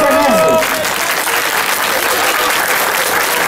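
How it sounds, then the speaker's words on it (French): A crowd at a World Day against the massacre of dogs in Romania event claps and cheers loudly and steadily, a dense burst of applause that opens with a brief tone and continues throughout. "On va applaudir Cerise."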